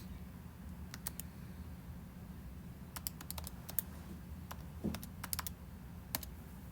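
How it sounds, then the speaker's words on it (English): Scattered keystrokes on a computer keyboard, sparse clicks and short bursts of quick taps over a low steady room hum, fairly faint and close. "let me type this one in and see what happens"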